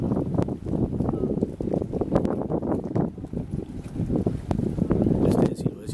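On the open sea at Buenaventura, Colombia, a motorboat pounds through the water in an irregular rhythm of thuds and splashes, with steady wind roar over the microphone.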